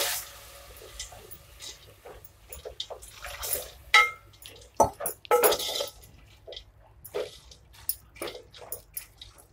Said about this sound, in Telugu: కొద్దిగా వాటర్ వేసుకున్నాము